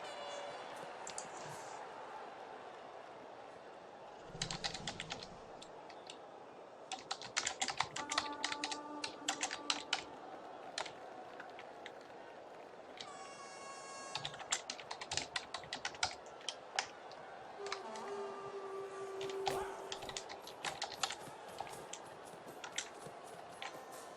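Quick bursts of typing on a computer keyboard, close and clear, in uneven clusters of clicks over a quiet room hum, with short pauses between runs of keystrokes.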